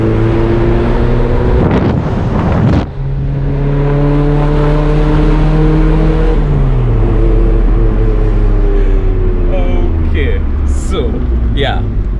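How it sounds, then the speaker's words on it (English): A Hindustan Motors Contessa heard from inside the cabin on the move, its engine and exhaust droning steadily with harmonic tones that rise and shift as revs change, wind noise mixed in and short bursts of voices over it. "you can hear the exhaust a little bit, I guess"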